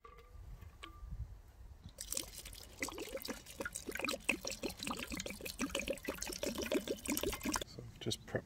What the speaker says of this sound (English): get some water in it.